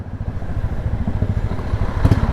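A Royal Enfield Classic 350 with a sport muffler rumbles in traffic: a steady, close, low-pitched thumping exhaust with a slightly louder pop near the end.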